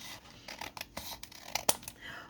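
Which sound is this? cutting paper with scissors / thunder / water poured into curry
cutting paper with scissors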